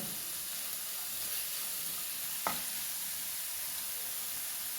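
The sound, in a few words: stirring drumstick flower thoran in pan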